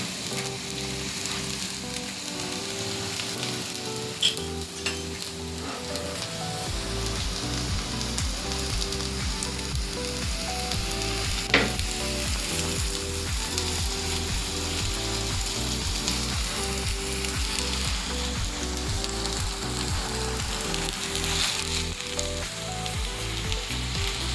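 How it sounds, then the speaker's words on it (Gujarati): Ragda patties fry in oil in a pan, giving a dense, steady sizzle that runs for the whole stretch alongside a faint tonal background, with occasional soft stirring and no voices. "થોડી થોડી વાર આ રીતે હલાવીશું જેથી કરીને તેલ બધું આમાં નીચે ફ્રાય થઈ જાય"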